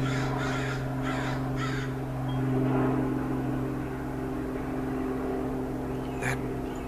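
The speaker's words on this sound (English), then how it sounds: "That crow is the only meaning there is." A crow caws four times in a quick run near the start and then once more near the end, loud and fairly close, over a steady low engine hum outdoors on a walkway with a breeze.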